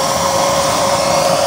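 A 12-volt blower on a DIY waste oil stove with a 24-hole nozzle and 3-inch chamber whirs steadily, a loud continuous rushing hum with a strong whine, close up and unbroken.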